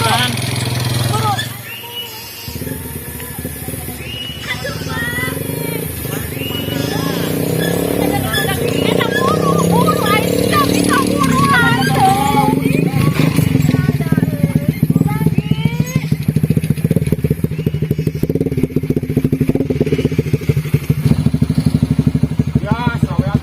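A motorcycle engine idles and runs close by with a steady mid-pitched drone that grows slightly louder. Several people talk over it throughout.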